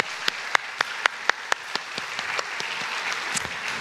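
A church congregation claps for the children's Vacation Bible School during a Sunday service, beginning with a few sharp, separate claps that thicken into a brief, dense round of applause.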